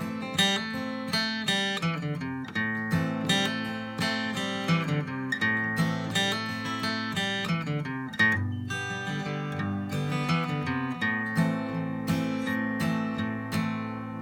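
Acoustic guitar playing the folk tune The Cuckoo, mixing strummed chords with picked single notes in a steady, close, lively rhythm, played alone without talk.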